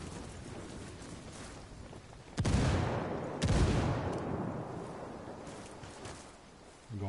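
Heavy gunfire in the Ghost Recon Wildlands video game comes as two big booming blasts a second apart, each trailing into a long rumbling decay over a dull background.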